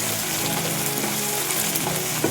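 Curry leaves sizzle steadily in hot oil in a frying pan while a Kerala curry is cooked. The crackling hiss is dense and constant, with a few small pops and no talk.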